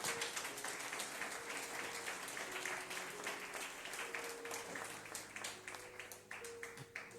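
Congregation in a Spanish-language church service applauding, with scattered and moderately dense claps over soft sustained music tones, thinning out before a sudden loud burst at the end.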